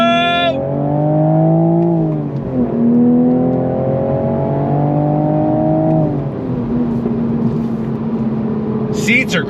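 A 2026 Toyota Supra Mk5 sports car accelerating at full throttle, its engine note loud and close as it climbs steadily in pitch through repeated rising sweeps, with brief dips between gear changes.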